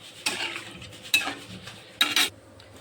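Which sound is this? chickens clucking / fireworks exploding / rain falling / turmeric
turmeric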